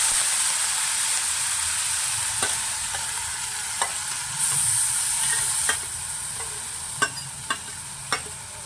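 Crushed green chillies and asafoetida fry in hot oil with a steady, bright sizzle. Sharp clinks and scrapes of stirring cut through at intervals.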